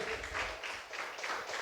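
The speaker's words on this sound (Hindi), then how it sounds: "ताली बजाओ जोर से" Congregation clapping loudly in a church service, a steady dense wash of many hands clapping together throughout, fairly close and even in level with no pauses.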